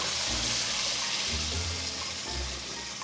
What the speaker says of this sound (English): Now we add the water that we blanched.